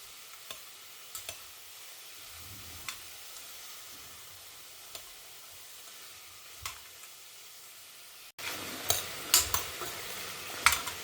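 Quinoa with cauliflower, carrot and salt sautéing in a pot, a faint steady sizzle broken by occasional light stirring scrapes, louder in the last few seconds.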